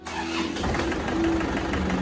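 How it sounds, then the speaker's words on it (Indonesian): An Isuzu Panther diesel engine with an injection nozzle and pump fault idles roughly and unevenly, close and loud, with a rapid ticking knock running through the rumble. "Kemarin sebelum diperbaiki juga ada suara tak-tak dan mesinnya agak pincang."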